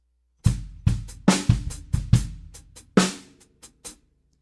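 A drum kit plays a syncopated sixteenth-note bass drum pattern for a beginner song, with several sharp, close hits in an uneven rhythm and cymbal wash, no voices.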